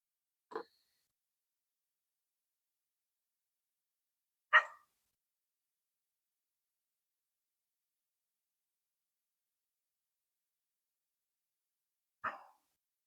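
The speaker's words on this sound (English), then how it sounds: "We got some old dogs on the property." Old farm dogs on a rural property bark three times, single sharp barks spaced several seconds apart, distant and faint against otherwise quiet air.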